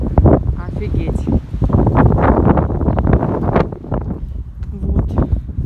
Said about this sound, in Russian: Да, ветер, конечно, большой.